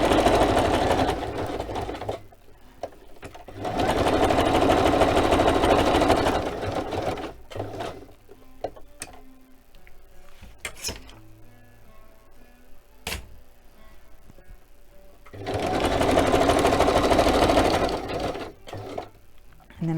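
A sewing machine zigzag-stitches fabric in bursts of loud, steady mechanical whirring, separated by quieter pauses with handling clicks and knocks.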